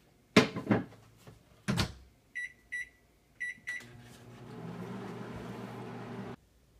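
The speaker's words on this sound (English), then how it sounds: "we are going to preheat the flour tortilla for about 15 seconds in the microwave" A microwave oven heating a flour tortilla runs with a steady low hum, preceded by a few handling knocks and a string of short electronic beeps.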